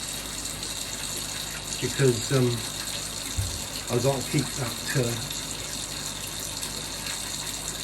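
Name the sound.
water running into a fish tank during a water change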